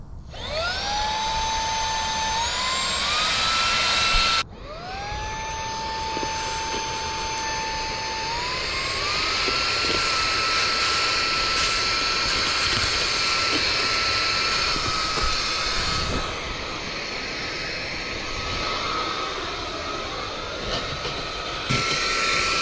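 A small lightweight handheld vacuum cleaner runs with strong suction, its motor whining up in pitch at start, cutting out briefly, then spinning up again into a loud, steady, close roar that holds for the rest, with no talk.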